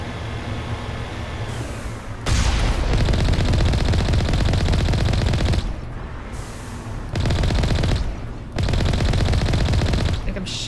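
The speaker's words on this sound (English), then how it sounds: "I'm shooting at pretty point-blank range with this huge gun" Bursts of heavy gunfire from a huge gun in Mass Effect Legendary Edition on a spooky alien planet, several loud sustained volleys of rapid shots separated by short pauses, no talk.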